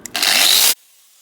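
An angle grinder fitted with a fibre disc bites into metal in one loud, harsh burst of under a second, then cuts off to quiet.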